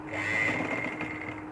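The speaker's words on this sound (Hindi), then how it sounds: "ये मैं इस तरह इसकी सिलाई लगा रही हूँ" A sewing machine stitches a sleeve onto a girl's umbrella-cut frock, a close, steady high-pitched whirring run of rapid needle strokes lasting the whole moment without pause.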